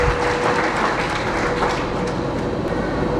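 A congregation at a feast-day celebration in a Lahore Catholic church claps together, a dense, loud wash of applause that holds steady for the full few seconds.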